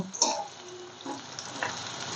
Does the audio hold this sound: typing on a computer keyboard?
no